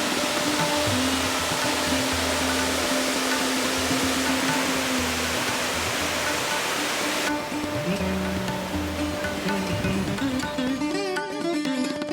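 Rajdari waterfall pours with a loud, continuous broadband roar of rushing water, steady throughout with faint background tones and murmurs.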